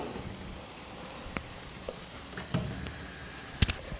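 Sweet bonda balls deep-frying in hot oil over a medium flame, a steady soft bubbling hiss with a few sharper crackles and pops near the end, heard alone without talk.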